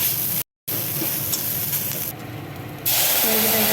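Dal poured into a hot tempering of fried spices and mustard seed for shukto dal, giving a loud, steady sizzle and hiss that swells and shifts as the liquid hits the pan, with no talking.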